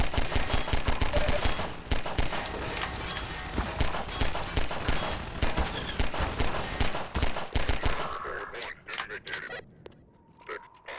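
Rapid, dense automatic fire from the pulse rifle in Half-Life 2, with burst after burst of loud shots through most of the stretch, thinning into scattered sharp reports near the end while a voice speaks over the action.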